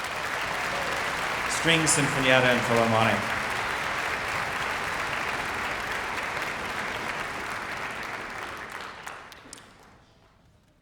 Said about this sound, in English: So let's have another round of applause for